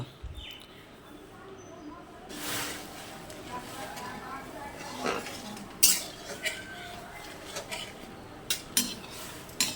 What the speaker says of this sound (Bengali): প্রথমে আমি একটা কড়াই নিয়েছি, তাতে পরিমাণ মতন জল দিয়ে দিলাম।